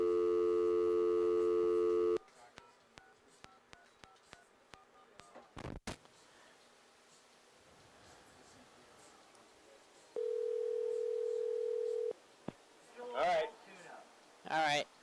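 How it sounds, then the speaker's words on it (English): A landline dial tone hums steadily, then a quick run of touch-tone dialing beeps follows, with line noise and clicks. A second steady tone plays later. Faint background voices sit underneath. "Carl, I'm going to unplug the phone line and I'll call you right back"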